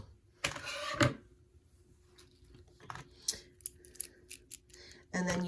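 A few sharp scissor snips trimming the string ends of a beaded ladder cuff, quiet and close, with short pauses and small handling clicks between cuts.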